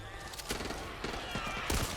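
A shotgun fired at the undead in the game Back 4 Blood: three sharp, booming blasts spaced roughly half a second apart, with voices talking underneath.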